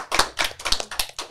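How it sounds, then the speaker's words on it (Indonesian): Six crisp hand claps in a steady, even rhythm, close and distinct, with nothing else around them. "Berikan tepuk tangan sekali lagi untuk Johan Johansa."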